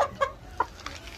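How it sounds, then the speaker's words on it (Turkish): Pet breed hens clucking in short bursts close by, a few separate calls spaced across the moment, with no talking over them. "bunlar benim cins tavuklarım"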